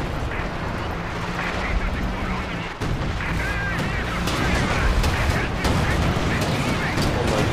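Anti-tank guns fire in a large 4v4 battle in the video game Company of Heroes 2, with dense booms and crackling battle noise, one sharp blast standing out amid continuous combat din.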